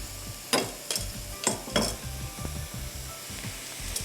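Chicken samosas frying in a pan of hot oil, a steady low sizzle broken by several sharp scraping knocks of a utensil against the pan, with no talking.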